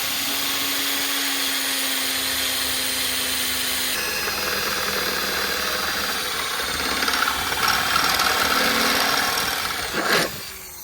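A drill bores a pilot hole through the radiator support panel of a WB Holden Sandman ute, a steady whining power-tool drone with a shift partway through and a brief louder burst near the end.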